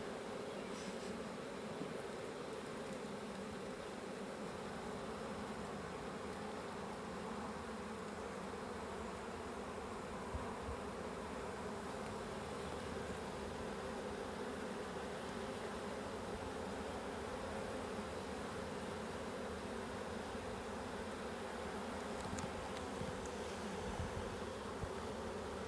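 Honeybees hum in a dense, steady drone from an opened hive with its roof taken off, a continuous, fairly quiet buzz that holds level throughout with no talking.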